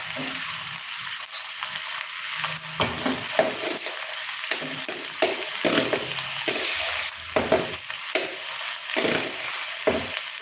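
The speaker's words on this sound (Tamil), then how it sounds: "புளியோதரை ரசம் ஏற்கனவே செஞ்சு வச்சுருக்கிறேன் இதை நம்ம சேர்த்து கலரிக்கலாம்" Tamarind paste being mixed by hand into cooked rice for puliyodarai, with continuous wet squishing and scraping in a kitchen and occasional soft thuds, close and fairly steady.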